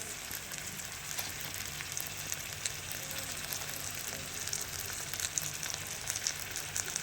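Veg noodles tossed with tomato sauce in a pan give off a constant bright, hissing sizzle with faint stirring underneath, steady and moderately quiet, with no talking.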